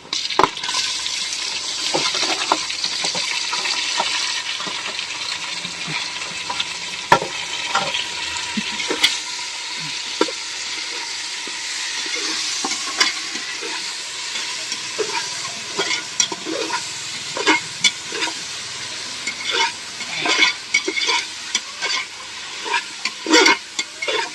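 Tomatoes frying for chicken biryani hiss in a steady close sizzle, while repeated stirring strokes scrape and knock against the pot, growing busier toward the end.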